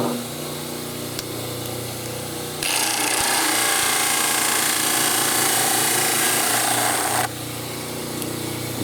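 A power model trimmer grinds a dental denture model in one loud, steady, harsh grinding spell of about four and a half seconds, with a quieter running hum before and after, and no talking.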